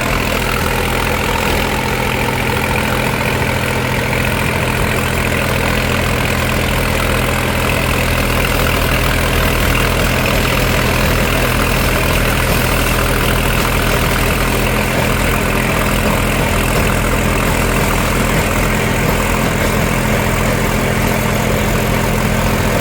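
A New Holland 5510 4wd 50 HP tractor engine idles steadily at close range, a loud, even, low mechanical rumble with a constant knocking texture and no pauses.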